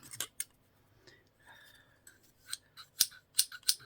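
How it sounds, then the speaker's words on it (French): A pair of scissors from a small online-order haul being handled, giving a scattered run of sharp metallic snips and clicks, close and fairly quiet, irregular with short pauses. "il y a donc une paire de ciseaux"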